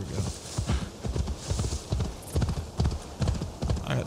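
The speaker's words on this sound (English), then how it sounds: "Horse wants to go, and I should stick to a path." A horse gallops in Assassin's Creed Valhalla, its hooves giving a steady, rhythmic clip-clop across farmland that runs throughout under faint background game ambience.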